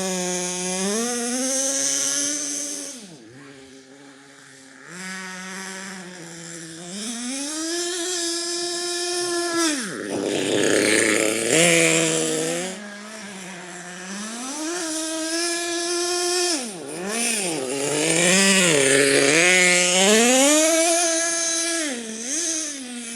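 Small RC nitro engine running on homemade fuel, whining and revving up and down repeatedly at high pitch, dipping and surging as it is pushed toward full throttle, near and loud with no voices.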